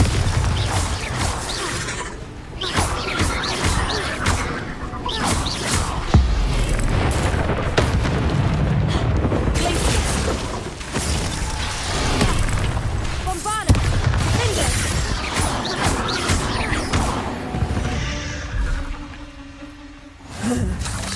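Bombarda explosion spells blasting in a Harry Potter castle video game, repeated heavy booms and crashes amid clattering combat effects, with a voice calling out spell names over the action.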